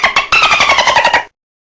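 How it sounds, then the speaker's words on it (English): Dolphin calling with a rapid series of high, squeaky clicking whistles, loud and close, about a second long with no other sounds. "dolphin,"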